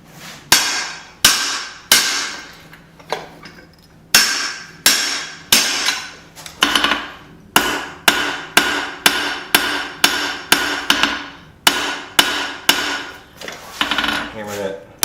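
Hammer blows on hot steel over an anvil as a bolt is forged into a small knife, sharp ringing metallic strikes in steady bursts, roughly two per second with brief pauses between runs, close and loud with no talking.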